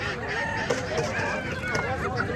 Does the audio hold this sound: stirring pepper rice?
no